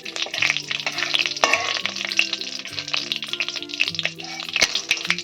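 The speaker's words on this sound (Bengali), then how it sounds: "দুটো শুকনো লঙ্কা দিয়ে দেবো তেলের মধ্যে।" Dried red chillies fry in hot oil, giving a steady crackling sizzle with occasional sharper pops, close and fairly loud, with no talk.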